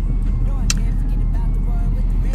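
Idling car waiting in line at a COVID testing drive-thru, a steady low engine rumble and road hum throughout, with people talking inside the car over it.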